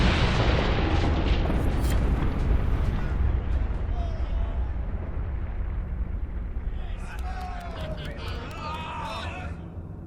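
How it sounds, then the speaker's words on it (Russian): A deep, rumbling explosion in the video game Dragon Age: Inquisition rolls out loudly and slowly fades, with a voice speaking Russian over the tail end. "Крутые не смотрят на взрывы."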